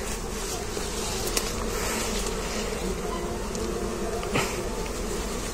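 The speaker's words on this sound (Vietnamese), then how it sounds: "Nè, cái nhà có ong nè." Dense swarm of bees buzzes steadily around a wild honey bee nest out in the open. The hum is loud and close and continues without a break, with a few faint knocks and no speech.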